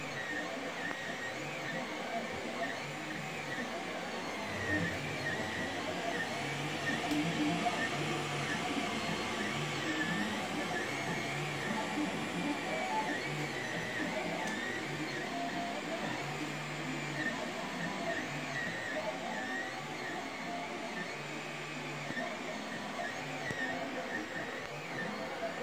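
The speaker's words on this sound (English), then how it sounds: "here's a little clip of me printing it out." 3D printer fitted with an E3D V6 hotend printing, a continuous whirring hum with shifting stepper motor whines, steady and moderately close, with faint voice in the background.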